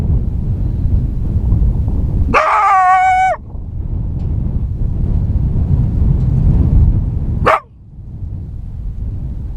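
A coyote caught in a trap at the edge of an Indiana field calls out twice, a short rising yelp-bark and later a brief sharp cry, over steady rumbling wind or vehicle noise.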